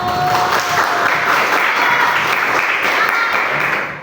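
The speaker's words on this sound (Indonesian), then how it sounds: "Tepuk tangan untuk kelompok 1" Fifth-grade pupils in a classroom applaud for group 1 after a civics lesson on the Pancasila principles, a full, steady round of clapping that holds evenly before tapering off at the very end, with a few voices faintly under it.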